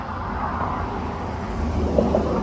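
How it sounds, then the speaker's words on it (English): Cars passing on a nearby road beside a home garden, a steady low roadway rumble that swells slightly toward the end, with no talk over it. "Sorry about the car traffic."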